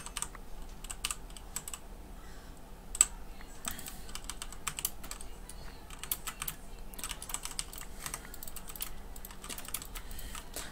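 Rapid clicking of a computer mouse during a tower-defense style game, a steady stream of sharp taps with one louder snap, close and alone over a quiet hum.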